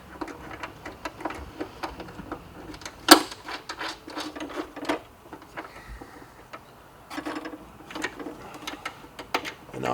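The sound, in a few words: putting nuts on fairing screws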